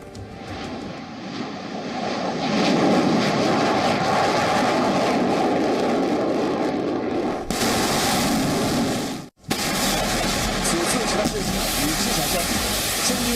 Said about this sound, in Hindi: आसमान में उड़ते फाइटर जेट्स,